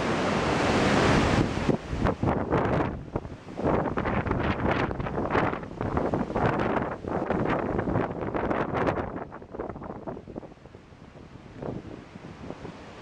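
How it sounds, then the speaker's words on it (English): Waves surging across a flooded road at Scott's Cove in Setauket, New York: loud, rushing water and heavy wind buffeting the microphone, easing to a softer wash toward the end, with no voices. "These waves are on the street."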